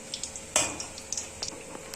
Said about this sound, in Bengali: এইভাবে অল্প অল্প করে দুটো তিনটে করে ছাড়বেন তেলে আর ভাজবেন